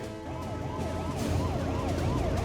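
An ambulance siren wails in a steady rising-and-falling cycle, loud and continuous over low road rumble, repeating roughly twice per second.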